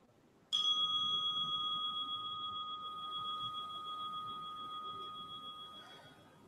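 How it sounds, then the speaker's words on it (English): A single relaxation chime rings out clearly, with a bright, sustained metallic tone that decays slowly over several seconds against a quiet room. "When you hear this chime, let it create an automatic response to relaxation."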